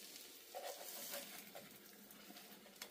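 French toast frying in a pan, a steady close sizzle with faint stirring and scraping noises on top.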